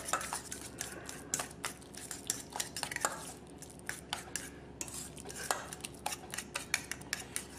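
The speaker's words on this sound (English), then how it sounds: "Now I'm going to go ahead and just mix all those ingredients up here" Avocado, olive oil and other ingredients being mixed in a bowl, with steady, close clinking and scraping of a utensil against the dish and no talking.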